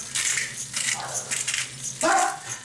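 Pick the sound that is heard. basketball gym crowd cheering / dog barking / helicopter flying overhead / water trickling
dog barking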